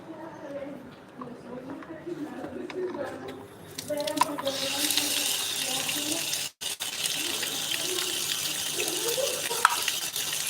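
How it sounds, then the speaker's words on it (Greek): A water tap in Livadeia runs in a steady, fairly close hiss of flowing water, starting partway through and continuing to the end while someone talks over it. "Και εδώ έχει μια βρύση."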